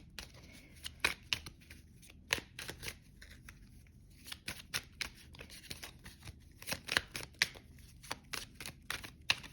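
Tarot cards being shuffled and drawn in a quiet room: a steady run of soft papery riffles, flicks and taps, irregular and close, with no talking.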